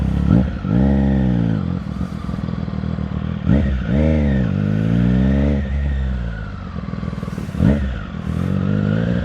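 A 2026 Yamaha Gravis V2 motor scooter engine runs close by and revs up and down several times, its pitch rising and falling in repeated surges.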